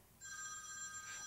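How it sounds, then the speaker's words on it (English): A mobile phone rings indoors with a steady electronic tone that starts suddenly and continues, fairly clear over quiet room background. "that's my phone."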